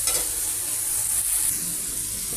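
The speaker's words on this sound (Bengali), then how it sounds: "আমি দুই পাশে দুইটা কড়াইতে মশলা বোনা করতেছি।" Spices fry in two woks at once, giving a dense, steady sizzle with a constant hiss that stays close and even throughout, with no voices.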